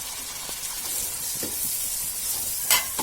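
Onions sautéing in a pan with curry leaves for a prawn biryani masala, a steady close sizzle with soft stirring and a brief louder hiss near the end, no talking.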